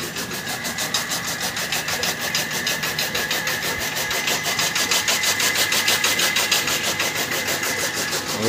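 The engine of a chaff cutter runs while fodder is cut on a farm, giving a steady mechanical chugging with a fast regular pulse and a constant drone, fairly close and alone without talk.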